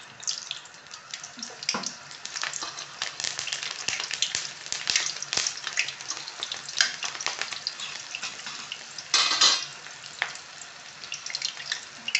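Slit green chillies fry in hot oil with a steady, bright sizzling hiss that swells briefly near the end, with no talking.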